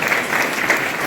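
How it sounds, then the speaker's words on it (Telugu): An audience claps for three boys at a Dr. Sarvepalli Radhakrishnan Jayanti event in Ramachandrapuram, a brief burst of steady, dense applause with no talk. "ఆ ముగ్గురు బాయ్స్కి క్లాప్ హ్యాండ్స్"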